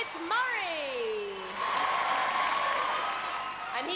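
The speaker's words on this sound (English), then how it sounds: "Humongous applause from Jean and Frankie" A 1995 UK Gladiators studio audience applauds under a rising, swooping synth sound effect, with a steady crowd wash of clapping and cheering throughout.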